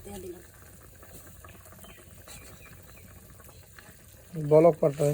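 Curry with tilapia fish, malabar spinach and taro stems bubbles in a pot with a soft, irregular patter of boiling liquid, faint and close, before a voice starts speaking near the end.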